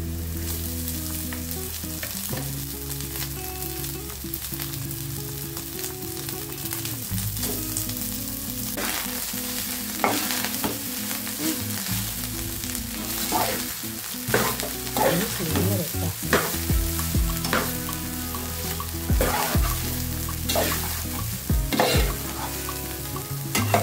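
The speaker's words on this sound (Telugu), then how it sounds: "మనం పొడి పొడిగా వండి పెట్టుకున్న రైస్ వేసేద్దాం." Cooked rice for gobi fried rice crackles and sizzles in a hot pan while it is stirred and tossed, with continuous loud frying noise broken by frequent scraping and clanking strokes of the spatula.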